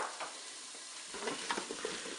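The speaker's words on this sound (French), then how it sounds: "Maintenant, je vais rajouter mes pommes de terre." Potatoes go into a Cookeo pot of lentils and ham with a soft run of knocks and light clatters over a faint bubbling hiss, the thuds clustering in the second half.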